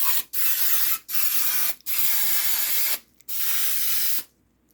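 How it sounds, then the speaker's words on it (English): Baker's Joy baking spray hisses into a muffin pan in four steady bursts of about a second each, loud and close, with brief pauses between them and silence at the end. "I'm going to use Baker's Joy just because I'm baking."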